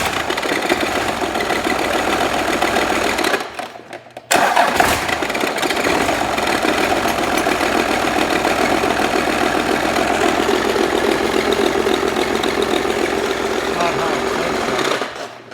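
A Cummins diesel swapped into a 1967 Ford F-250 cranks, cuts briefly, then fires into a rough, loud, rapid clattering run that continues close and steady, with a voice audible in the background.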